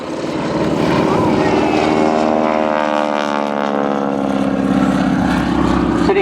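A PBY-5A Catalina flying boat drones loudly at the Shoreham airshow, its twin propeller engines giving a steady, throbbing roar that holds close and constant throughout.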